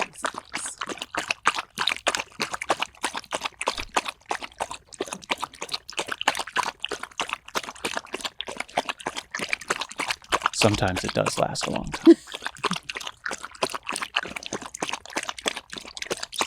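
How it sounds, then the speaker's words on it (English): A wolfdog laps drinking water in a quick, steady rhythm of close wet splashy tongue strokes that run throughout, with people briefly talking partway through. "We can't talk when the dogs are drinking."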